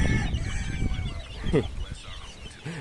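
Chickens cluck softly nearby amid a busy outdoor background as chicks hide near a mother hen, with a few short peeps and clucks scattered through.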